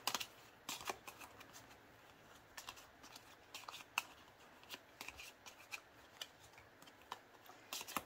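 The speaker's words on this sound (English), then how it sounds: "So let's shuffle them." A deck of playing cards is shuffled over and over, giving soft riffling and sharp snapping flicks at uneven intervals, near and fairly quiet with no talking.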